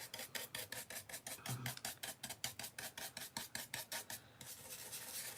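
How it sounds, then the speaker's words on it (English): A painted, distressed gingerbread craft platter is sanded by hand in a fast, even rhythm of rasping strokes, about four per second, close but fairly quiet and without speech. "you can sand it"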